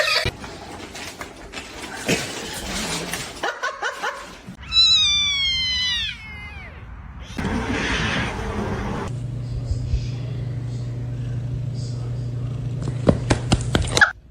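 Kitten meowing, several distinct high, rising-falling cries in a short burst, close and clear, mixed with rustling handling noises, a steady low hum and bits of other background activity.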